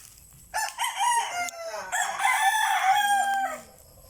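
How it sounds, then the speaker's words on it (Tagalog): A fighting rooster crows loudly and close by in a single long call lasting about three seconds, with a faint lower-pitched bird cry near its end. "mga manok nga pang sagupaan guys"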